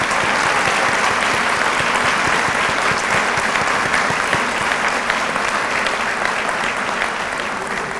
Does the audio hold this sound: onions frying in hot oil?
no